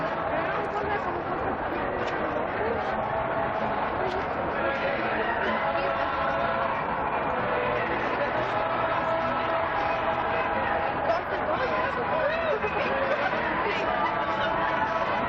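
Dense crowd chatter and babble surround someone walking through a busy gathering in San Francisco, a steady close hubbub of many voices with no pauses.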